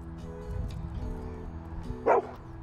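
A dog gives a single short, sharp yip or bark partway through a room scene, with low background rumble and no talking.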